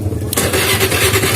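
Honda Vario scooter engine after a starter fix: a brief starter crank then the engine catching and running with a loud, close, steady idle.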